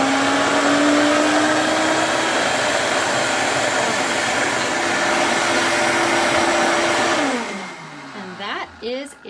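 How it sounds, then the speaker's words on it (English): A Vitamix blender on its puree setting blends homemade BBQ sauce with a loud, steady motor whir that holds for several seconds, then winds down and stops. "So right on the front is the puree function, and she's gonna press start. And it's gonna blend everything nice together"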